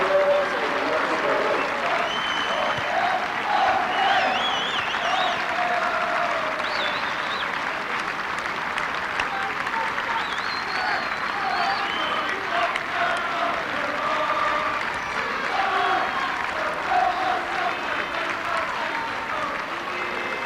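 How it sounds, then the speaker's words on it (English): Sustained applause from a large rugby league stadium crowd as players applaud the fans, steady and broad with scattered cheers, filling the whole stretch without letting up. "The Rovers players going across to the east stand to applaud the faithful."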